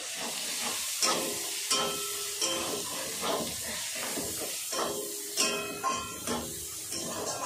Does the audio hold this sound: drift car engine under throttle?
no